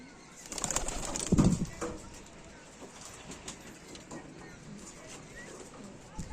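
Domestic flying pigeons at a breeder's house coo softly amid faint background noise, with a louder burst of activity near the start and occasional voices.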